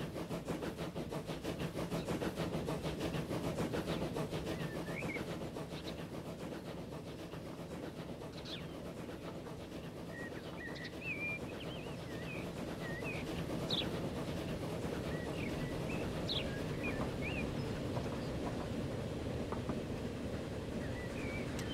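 A passenger train in the Transport Fever 2 simulation game runs with a continuous low rolling rumble. Faint high chirps are scattered over it, and no one speaks.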